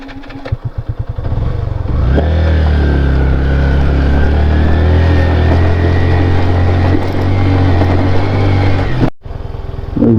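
A motorcycle engine on an off-road ride, revving up after a rough start into a loud, steady close drone, then cutting out abruptly near the end before resuming.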